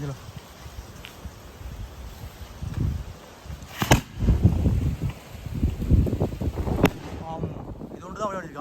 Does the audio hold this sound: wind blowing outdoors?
yes